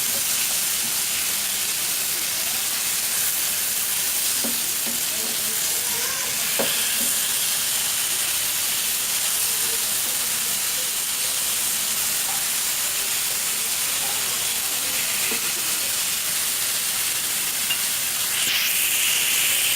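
Pieces of fish fry in hot oil over a high flame, giving a steady, loud sizzle and hiss that runs without a break, with faint clinks now and then.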